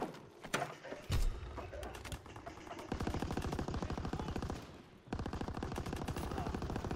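Machine gun fire in a WWII video game war mode, with a few scattered shots and clanks first, then long loud bursts of rapid automatic fire briefly interrupted.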